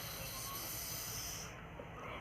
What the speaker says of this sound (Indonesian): Suara ular.